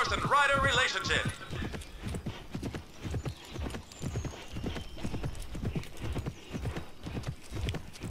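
Rhythmic hoofbeats of a galloping horse pound steadily throughout, with a brief whinny near the start and a voice talking over them, in the video game Petz Horse Club.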